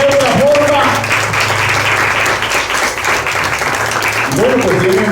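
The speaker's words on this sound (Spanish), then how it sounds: "Un aplauso al Señor" A church congregation applauds during a sermon, a full sustained round of clapping with crowd noise, and a voice speaks briefly over it at the start and again near the end.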